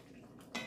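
A short scrape and clink of a spoon stirring meat sauce in a pot, a single quick stroke heard close up after a soft bubbling background, with no talking.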